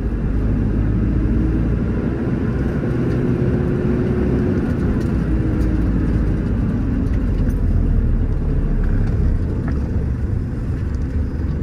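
Steady low engine rumble of a Mk4 Volkswagen Golf estate driving into a dark petrol station, with road and tire noise holding constant and loud throughout, no voices.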